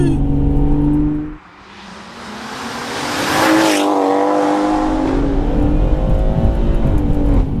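A meth-injected stage 2 BMW M140i accelerates hard, its engine note climbing loudly in pitch, dipping briefly at a gear change, then surging again close by inside the car.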